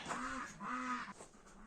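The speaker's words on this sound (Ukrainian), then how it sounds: "Ось такі дві мої качуньки" A pair of domestic ducks in a farmyard give two drawn-out nasal quacks, faint and close together, followed by softer calls.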